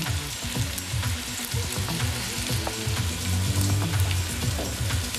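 Lamb knuckle pieces brown in a hot pan for a Cape Malay curry, giving a steady, dense sizzle and crackle with faint scraping, loud and close throughout with no talking.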